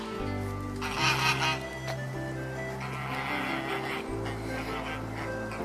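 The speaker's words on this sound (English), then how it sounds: "Now they're not honking. Geese! There, on cue." A few geese honk in short bursts over a steady low engine-like hum.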